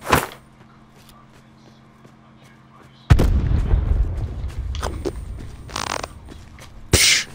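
A grenade blast in the video game Black Ops 4 lands as a single heavy boom with a rumbling tail after a quiet stretch, followed by scattered in-game clatter and a few sharp bursts.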